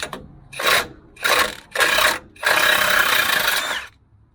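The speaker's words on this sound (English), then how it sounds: "I've got an 18mm impact on here. We're going to just give her a burn." An impact wrench with an 18mm socket hammers at the bottom bolt of a front strut during a front-end rebuild. It gives three short, loud rattling bursts, then one longer sustained run, with no talk.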